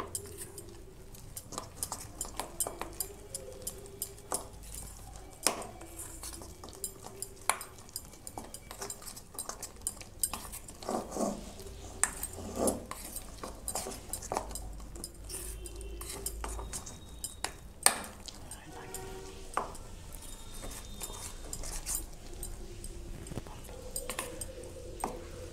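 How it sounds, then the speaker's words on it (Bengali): Rice flour and wheat flour are mixed with egg in a bowl, producing soft, irregular clinks and scrapes of a utensil against the bowl. The sounds are faint and continuous with scattered sharper taps and little talk. "ডিমটা দিয়েই মাখতে হবে।"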